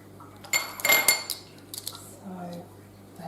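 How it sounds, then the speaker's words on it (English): Metal measuring spoon clinking against a dish while scooping poppy seeds for an orange cake, a few bright close taps and scrapes clustered together, then quieter rustling. "So I have my measuring spoon here."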